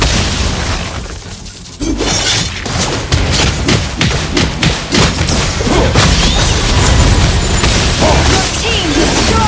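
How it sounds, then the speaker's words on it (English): In a Mobile Legends match, a turret is destroyed amid loud, dense game effects: booms, crashes and rapid impacts run continuously, with an announcer-style voice over the action. "Your team destroyed the turret!"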